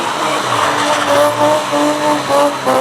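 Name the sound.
car skiing on two wheels, tires squealing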